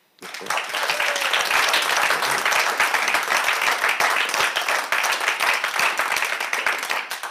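A live radio show audience gives Pierre-Yves Maillard a loud, dense round of applause that starts abruptly and stays steady for about seven seconds with crisp, fast individual claps.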